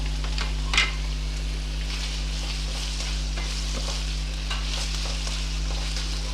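Finely chopped onions frying in oil on high heat for a brain fry dish, a soft continuous sizzle with light stirring scrapes over a low steady hum, no talking.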